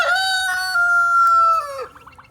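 Young farm turkeys give one loud, drawn-out, quavering fowl call lasting over a second, close by, which then trails off into softer clucks.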